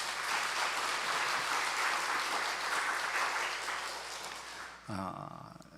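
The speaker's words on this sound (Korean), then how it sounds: "박수로 환영해 주시기 바랍니다" Dense, steady clapping from a seminar audience welcoming a guest speaker, lasting about five seconds before cutting off abruptly.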